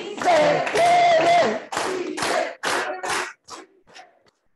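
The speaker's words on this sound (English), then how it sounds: "let's do it with an organized hand clap." At a civic engagement speaker event, a crowd chants together in loud rhythmic bursts with hand claps, each shout separated by short pauses and fading over the last few repetitions.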